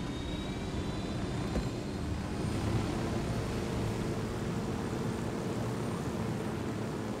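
A helicopter flying in Ghost Recon Wildlands, a steady loud engine and rotor drone that holds constant throughout with no talking.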